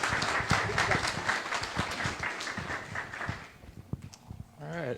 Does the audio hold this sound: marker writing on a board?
no